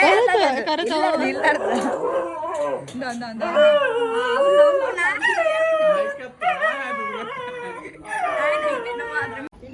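A dog howls and whimpers close by in long, wavering, rising and falling cries with short breaks between them.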